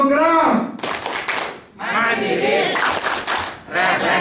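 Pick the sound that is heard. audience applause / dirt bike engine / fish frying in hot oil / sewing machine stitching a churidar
audience applause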